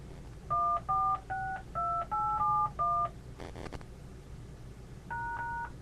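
A series of telephone keypad DTMF tones, seven quick two-tone beeps in a steady rhythm as a host PIN is entered, a short burst of noise, then one more beep after a pause.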